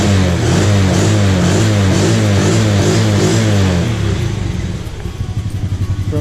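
A Honda TRX90 ATV engine warming up at idle, a loud close steady putter with a throbbing rhythm that loosens slightly near the end.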